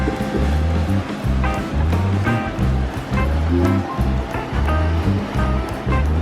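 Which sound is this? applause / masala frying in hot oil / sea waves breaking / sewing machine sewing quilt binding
sea waves breaking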